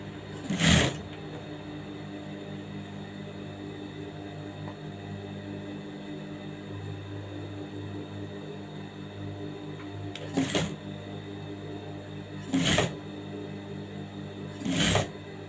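A sewing machine stitching pleats in fabric runs with a low steady hum, broken by four short loud clattering bursts, one early and three near the end, heard up close.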